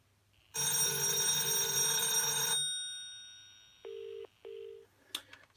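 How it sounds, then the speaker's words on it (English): A 1988 BT Viscount push-button telephone on last-number redial gives a loud, dense bell-like ring, then a steady tone and two short paired beeps, ending in a brief click. "If I hang up and press last number redial, it should dial out again."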